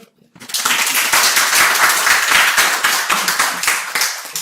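A room of people breaks into clapping after a brief silence, many hands rising quickly to a loud, dense round that holds steady and then begins to thin and fade.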